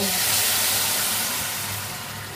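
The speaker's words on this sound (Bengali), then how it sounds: "সেই চিকেনের যে স্টকটা সেটাকে পুরোটা ঢেলে দেব" Chicken stock from boiled chicken pours into a hot pot of vegetables as a loud, close, broad hiss and rush of liquid that fades gradually over a couple of seconds.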